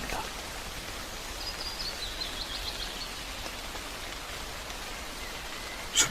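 Steady rain falling through a Finnish forest around a small cabin, a soft, even hiss of drops on leaves and surfaces that holds level throughout, with one brief louder tap near the end.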